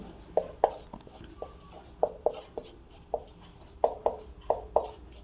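Chalk or marker strokes on a board during a Class 12 math lesson, a run of short sharp scratching taps in irregular clusters, close and fairly quiet, with no speech over them.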